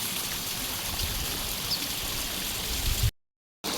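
Water flows steadily out of a village pond as a continuous rushing, stream-like wash, fairly close and loud, then cuts abruptly to silence near the end before resuming briefly.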